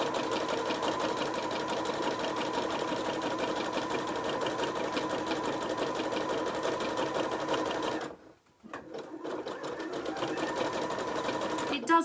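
A home sewing machine runs a steady zigzag stitch along a hot water bottle cover, loud and continuous for about eight seconds, then pauses briefly and starts up again. No one talks.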